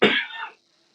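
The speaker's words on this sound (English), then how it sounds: "So much so it made me cough." A single short, sharp cough, close by, followed by silence.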